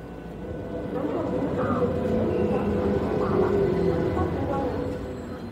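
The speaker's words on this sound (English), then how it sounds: "At its heart is a new subway system." A Shanghai subway train rumbles along the track in a steady, broad roar that rises and holds for several seconds before easing off.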